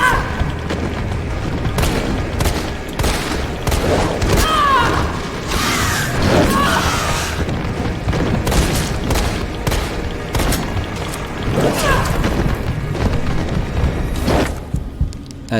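Pistol fire in the Resident Evil 3 remake comes as loud, close booms spaced irregularly, with crashes and mechanical clatter between shots over a dense game soundtrack.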